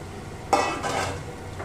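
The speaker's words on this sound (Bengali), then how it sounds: "এবার আমি এর মধ্যে দিয়ে দিচ্ছি ভেজে রাখা চিংড়ি মাছটা" Fried prawns tumble into a pan of sautéed spinach leaves with one sharp clatter, followed by a brief hissing sizzle, close by and with no speech.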